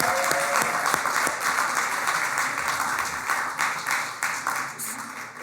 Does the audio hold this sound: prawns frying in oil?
no